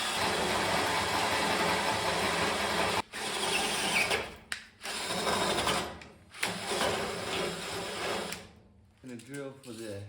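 A power drill whines and grinds in long bursts while drilling a hole in metal, stopping and restarting several times, with a brief voice near the end.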